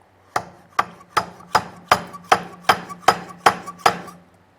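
A Woodpecker drill guide is struck about ten times with a hammer to wedge it tight, sharp evenly spaced knocks with a ringing metallic edge, close and loud, with no talk.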